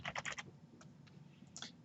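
Password being typed on a computer keyboard: two quick bursts of key clicks, a brief pause with a few scattered taps, then a final short flurry, all close and moderately quiet with no talking.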